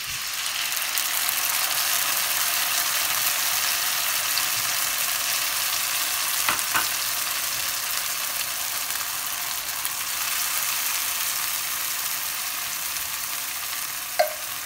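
Onions and tomatoes frying in a pan for Italian meatball tomato sauce, a steady close hiss and sizzle throughout, with a few stirring scrapes along the way.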